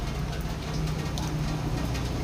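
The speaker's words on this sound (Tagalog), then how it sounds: "Sana wag nang lumakas yung ulan." Steady rain hissing over a low rumble, continuous and even with no voices.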